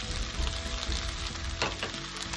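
Paneer fried rice is stirred in a hot pan, a steady close sizzle with soft scraping strokes of a spoon through the rice.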